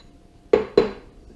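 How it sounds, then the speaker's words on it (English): A spoon knocks twice against a bowl while chopped chocolate is stirred into flour for cookie dough, two crisp close clinks about a quarter second apart, then quiet. "add our chocolate to it, to the flour. I'm just gonna stir it up a little bit."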